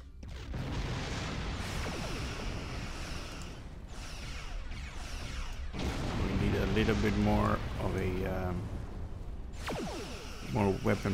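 Turret weapons firing in Star Trek Online, a series of booming artillery-like shots and whooshes in a space battle, with someone talking over much of the gunfire.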